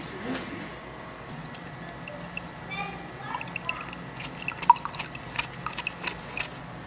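Lemon juice from a half lemon is squeezed and strained, producing soft, close drips and trickles that grow busier toward the end, with a faint voice in the background.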